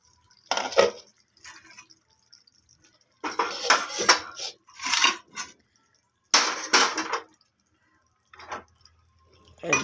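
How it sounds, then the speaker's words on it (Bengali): Egg garlic dum is scooped from a metal pot into a bowl, heard as several close bursts of clattering, scraping and clinking separated by short silences. "ঢেলে দিচ্ছি বাটির মধ্যে।"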